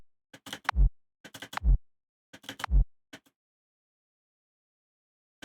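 A hard industrial kick drum punch repeats three times, each a brief burst of gritty transient noise that drops into a deep low thump. Short pauses separate the hits, and a small trailing click follows.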